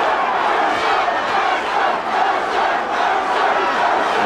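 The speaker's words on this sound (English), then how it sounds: "And now the Mercer crowd comes to his support." A boxing crowd cheers and roars in support of a fighter in the Ray Mercer vs Tommy Morrison heavyweight bout, a loud, dense, sustained wall of voices with no clear speech over it.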